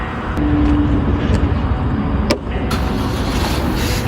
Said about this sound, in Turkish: Motor çalıştı. Şimdi bu motor canavar gibi çalışır bey abi.